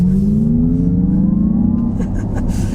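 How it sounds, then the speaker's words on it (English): A 2024 Acura ZDX Type S with all-wheel drive accelerates hard in sport mode with the wheel turned slightly. The loud engine rises steadily in pitch as the car pulls, with faint road and cabin noise near the end. "Now we'll do another acceleration with the wheel turn a little bit."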